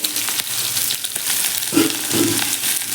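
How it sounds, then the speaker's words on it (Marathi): Onion fries in a small kadhai with a close, crackling sizzle, broken by scraping stirs and soft clatters of a spatula, and no talking. "इकडे एक छोटी कढई ठेवलेली आहे त्यामध्ये आपण हा कांदा घालून घ्यायचा आहे"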